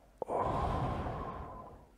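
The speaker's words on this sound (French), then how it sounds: "Alors, on va faire une respiration." A single deep, slow breath drawn in and let out during a guided breathing exercise, close and clear, with no talking over it.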